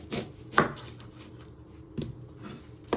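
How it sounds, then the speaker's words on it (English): A knife chops down through the middle of a red onion on a board, four separate sharp thuds spaced about a second apart, close and distinct, with no speech. "Chop it down the middle."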